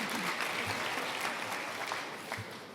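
Steady applause from an event audience at an awards ceremony opening, a dense wash of clapping filling the room at moderate level throughout with no voices over it.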